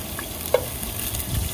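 Garlic frying in a pan gives a steady close sizzle throughout with a faint stir, no speech.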